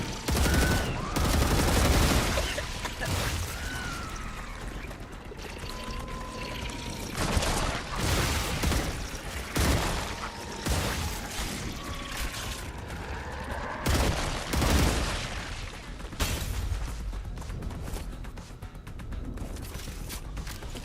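Guns firing in the video game StarRupture, with dense repeated bursts of shots and booming impacts running throughout, loud and busy against a layered game soundscape.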